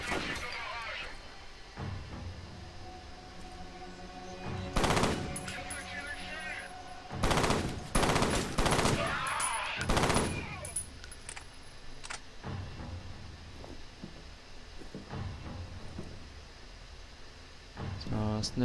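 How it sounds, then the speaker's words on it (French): Machine-gun sniper fire in the shooter game F.E.A.R., with loud bursts of rapid gunfire crackling in the foreground, interspersed with quieter gaps and game sounds while someone speaks at times. "C'est un sniper mitrailleur."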